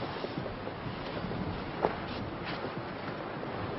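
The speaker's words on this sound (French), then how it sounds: "Il y a trop de vent, on peut pas y aller." Strong outdoor wind buffets the microphone in a steady, loud roar with gusts, heard alone without talk.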